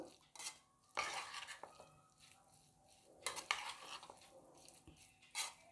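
Grated beetroot salad being stirred by hand in a bowl after hot tempering and chopped coriander are added, quiet wet mixing strokes with a few louder scraping bursts and faint utensil clinks, close, with no voices.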